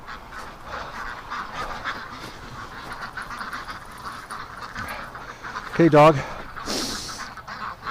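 Ducks in winter give a short burst of loud quacks and honks close by, over a background of rustling, while a person talks.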